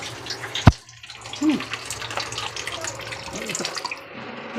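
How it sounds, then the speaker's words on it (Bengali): Rice being rinsed by hand in water at a home kitchen where fish-head masoor dal is being cooked, with soft splashing and running-water swishes, one sharp knock near the start and faint background noise. "চাল ধুয়ে নিলাম"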